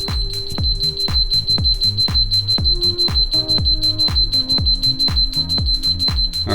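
A home safe's keypad sounds its error alarm, a loud, steady run of rapid repeating electronic beeps with a piercing high tone held throughout, close and continuous with no talking.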